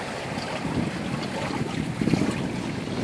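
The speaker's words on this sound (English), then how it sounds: "The wind picked up a good bit." Strong wind buffets the microphone aboard a sailboat in the Blasket Sound off Dingle, with broadband rushing noise, a low rumble and surging swells that swell slightly louder around two seconds; no one speaks.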